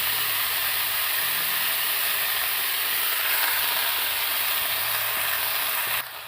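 Leafy greens dropped into hot oil in a pan, giving a loud, continuous close sizzle and hiss that holds steady for several seconds before easing slightly at the end, with no talking over it.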